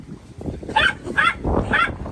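A dog gives a few short, yappy barks or whimpers in quick succession, nearby, over faint background noise.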